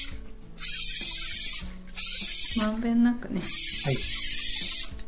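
Oil spray hisses onto a bread loaf pan in three separate bursts, each lasting about a second, close up, with a brief spoken word in between.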